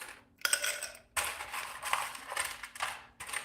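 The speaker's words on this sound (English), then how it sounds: "And we'll fill up a Collins glass with some ice here." Big chunks of ice clatter and clink into a tall Collins glass in a series of bright, close rattling bursts, with short pauses between scoops.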